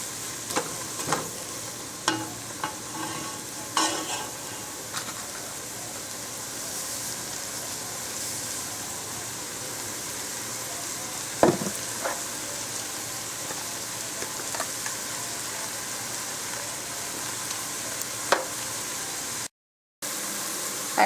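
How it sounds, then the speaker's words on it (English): Leeks sizzle steadily in a pan while sautéing for potato leek soup, a soft continuous frying hiss broken by occasional clinks and scrapes of stirring, close up with no talk. "Now we're going to add our leeks. And I'm just going to saute these for about 5 minutes or so."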